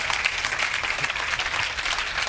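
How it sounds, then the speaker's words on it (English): Audience applause after a body-language coaching demonstration, a dense steady wash of clapping held at an even level for about two seconds with no voices over it. "Give him a big round of applause, absolutely."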